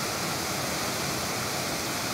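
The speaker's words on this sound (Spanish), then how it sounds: "pasamos al lado de estos espectaculares saltitos de agua" Small snowmelt waterfalls rush through a forest in El Gumial, Aller, Asturias, after a recent autumn snowfall, making a steady, dense broadband roar of falling water with no voices.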